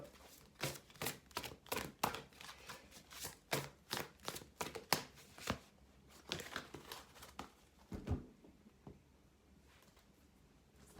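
Tarot cards are shuffled and handled at close range, a quick run of papery flicks and riffling snaps, soft and intermittent, with a few rustling pauses between bursts.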